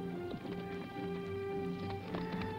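A cutting horse works a calf, its hooves thudding in quick, irregular beats under steady background music.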